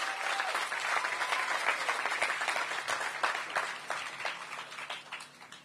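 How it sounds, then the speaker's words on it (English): An audience at a Washington, D.C. Ward 8 sports and entertainment arena ribbon-cutting gives a round of applause: a steady wash of many hands clapping, moderately distant, holding throughout and easing slightly toward the end. "Give them a round of applause as well."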